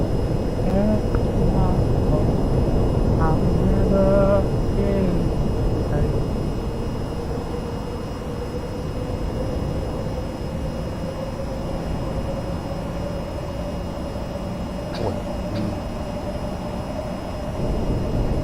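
A jet aircraft engine in VTOL VR on approach for a conventional runway landing, giving a steady, loud drone whose whine slowly climbs in pitch over nearly twenty seconds, with brief tonal blips early on.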